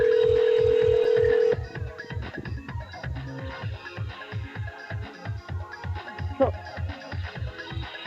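A telephone call is dialed: a steady tone holds for a moment, then gives way to a rapid, rhythmic series of electronic pulses and clicks.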